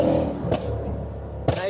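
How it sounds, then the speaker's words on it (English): A Mercedes-AMG E63, a 700-horsepower rear-wheel-drive saloon, cruising on wet roads, its low engine drone steady under a man's speech, with two short bursts of louder noise. "we're out on this lovely day on this E63 ASBO machine"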